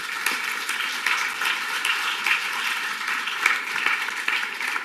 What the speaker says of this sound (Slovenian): Zaslužen aplavz za Tadeja in njegove goste.